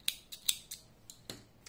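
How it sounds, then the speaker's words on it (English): Scissors snip through the edge of crocheted yarn, with five or six short crisp cuts close to the microphone in a quiet room. "I am cutting the edge."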